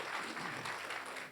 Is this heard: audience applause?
yes